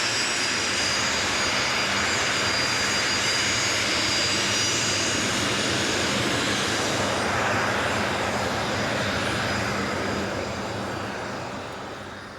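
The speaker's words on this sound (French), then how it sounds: "Certains privilégiés voient de près les avions et pilotes de la patrouille de France." Loud, continuous roar of Patrouille de France jet aircraft flying overhead, a broad sustained rumble that holds steady for several seconds and then slowly fades as the jets move away.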